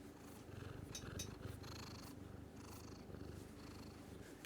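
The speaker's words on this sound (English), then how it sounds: "Sybil the Enforcer is back with me and purring away." A cat purrs close up in a soft, rhythmic rumble that rises and falls with each breath, alone and quiet.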